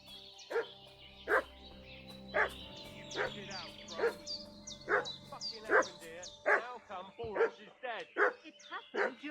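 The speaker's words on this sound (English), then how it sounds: "Dog's barking. What's that dog making such a fuss about?" A dog in Kingdom Come: Deliverance II barks repeatedly in sharp, evenly spaced bursts with some yips and whines, loud and near, over a faint low background.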